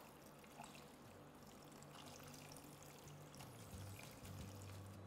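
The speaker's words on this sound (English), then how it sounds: "And then I'll add some water." Water pouring steadily into a cooking pot of goat meat for afang soup, a continuous splashing trickle whose pitch shifts as the vessel fills, quiet and close.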